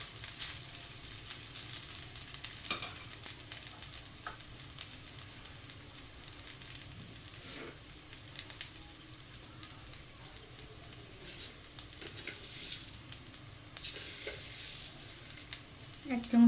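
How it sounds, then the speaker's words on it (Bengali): Bengali-style fried rice sizzles steadily in a pan while a spatula gently stirs it, a continuous close frying hiss with soft scraping strokes throughout and no talking. "হালকা করে নাড়াতে হবে,"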